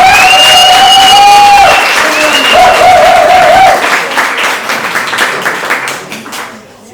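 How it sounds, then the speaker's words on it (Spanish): A live audience at a storytelling performance applauds. Loud, dense clapping with a few cheers gradually thins and fades over several seconds while voices call out above it. "Por favor, ya un fuerte aplauso para nuestra"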